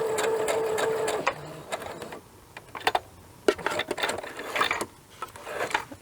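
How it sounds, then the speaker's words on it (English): Sewing machine back tacking a seam on a laser-cut COVID-19 face mask, short bursts of stitching broken by clicks and pauses, close and fairly quiet, no talk. "First I back tack. And I back tack when I get to the end as well."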